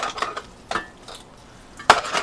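Cutlery clinks and scrapes against a bowl as noodles are tossed with vegetables such as cabbage, onion and boiled eggs: a few sharp taps spaced apart, the last one loudest, with soft stirring in between.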